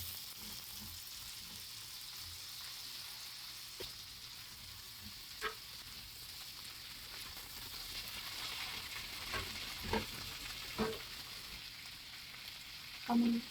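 Steamed vegetables hit a hot pan with garlic and settle into a steady, quiet sizzle, with occasional soft clinks and scrapes of stirring; no one talks.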